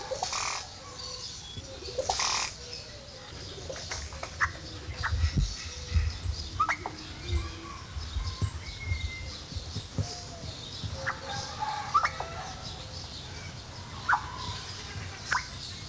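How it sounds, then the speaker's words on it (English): Oropendola, a South American bird, giving a varied series of calls, some coos and odd chirps, scattered over a steady outdoor background with several louder bursts near the start. "The Oripendula makes a variety of sounds."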